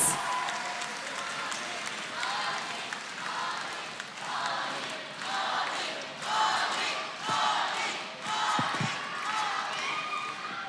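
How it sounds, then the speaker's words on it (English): Crowd applause at an MPL PH Season 13 esports playoff event rises and falls in waves over several seconds, with scattered cheers and a couple of sharp thuds near the end. "Everybody, let's give him a big round of applause."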